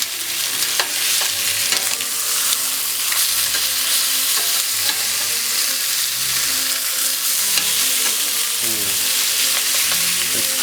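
Pork chops cooking in a wine sauce sizzle steadily and loudly in a pan, with a constant bright frying hiss and occasional light clinks or shifts, no speech.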